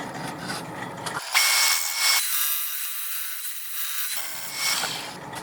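Coarse 40-grit sandpaper rubs across a wooden piece in a few bursts, a loud close scratchy rasp broken by short pauses.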